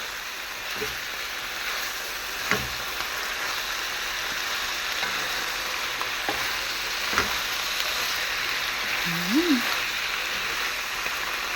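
Pechay leaves sizzle steadily in a hot pan as they are stir-fried, a continuous broadband crackle with a few soft clicks of stirring and no talk over it.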